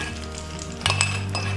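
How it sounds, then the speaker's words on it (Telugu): Curry leaves tempering in hot oil in a pan, a steady close sizzle that flares with a sharp crackling spurt midway, then keeps hissing continuously. "ఇప్పుడు దీన్ని బాగా ఫ్రై చేసుకోవాలి."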